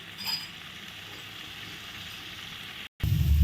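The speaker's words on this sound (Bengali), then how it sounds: "ভালো করে নেড়ে চেড়ে আরেকটু কষিয়ে নিলাম" Soybeans sizzle in a pan with spices as they are stirred, a steady soft frying hiss with light scraping, then a sudden louder clatter right at the end.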